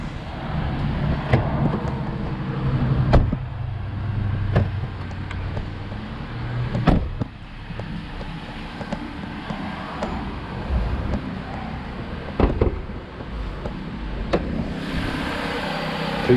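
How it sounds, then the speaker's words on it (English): A Chrysler 200 Limited engine runs steadily at close range, a low continuous rumble with a few sharp clicks and knocks scattered throughout. "Let's go ahead and pop the hood and crank it up."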